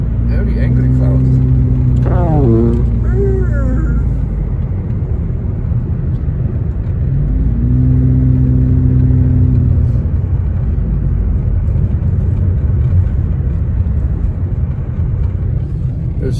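A Dodge truck off-roading through deep mountain snow, its engine a steady loud rumble and whir throughout, with excited voices talking and cheering over it.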